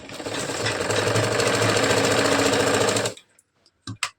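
A sewing machine runs a seam on a katori blouse, stitching the joints turned inward. A loud, steady rapid whirr lasts about three seconds, then stops abruptly, followed by a few faint clicks and handling noises.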